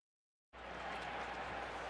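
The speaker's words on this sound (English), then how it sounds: "Ripple of applause." Twins fans at a Minnesota baseball stadium during a Yankees playoff game break into a ripple of applause, a steady distant wash of clapping and crowd noise starting abruptly after a short silence.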